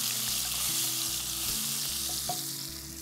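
Potatoes with turmeric and a garlic clove fry in hot oil, giving a loud, steady sizzle with faint stirring scrapes close by and no talk.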